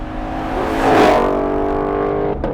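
Supercharged 760-horsepower V8 in a Ford Mustang GT500 revving through its exhaust: a loud, deep, close drone that swells to a peak and then holds steady, with no talking.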